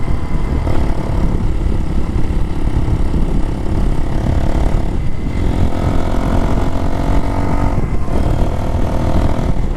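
A Can-Am Spyder three-wheeled motorcycle drones steadily while riding along a road, its engine a loud continuous rumble with slight dips as gears change.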